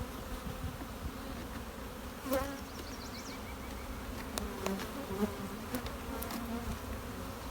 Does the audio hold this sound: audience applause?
no